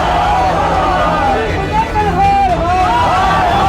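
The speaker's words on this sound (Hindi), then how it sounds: "पूरब सराय थाने के अंदर भीड़ ने काफी तोड़फोड़ की।" An unruly crowd of about 200 people storming and vandalising the Purab Sarai police station in Munger, Bihar: a dense, loud babble of many voices with shouting rising and falling throughout, with vehicle noise mixed in.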